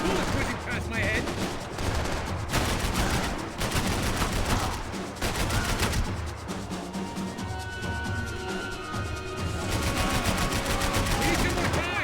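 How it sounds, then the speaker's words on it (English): A frantic Max Payne 3 gunfight with bullets whizzing past. Dense, loud bursts of rapid gunfire and automatic weapons go on without a break, with short crackling pauses and fainter tonal sounds in the mix. "I can't concentrate with bullets whizzing past my head!"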